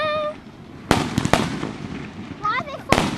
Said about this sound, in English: Fireworks night in England.